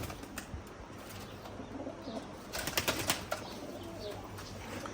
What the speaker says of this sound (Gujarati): બાકી આપણા કબૂતર તમે જોઈ રહ્યા છો